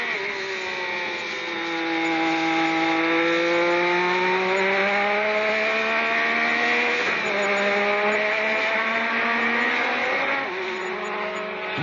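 Onboard a Lotus race car driven by Nigel Mansell at Brands Hatch, the engine screams at high revs, rising steadily through gears with brief dips at shifts, loud and close throughout.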